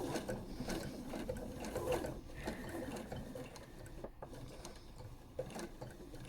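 A sewing machine runs steadily, stitching the outline of a quilt block onto grass-print fabric in a Bohemian Spring quilt, a continuous close mechanical whir with a brief dip near the middle.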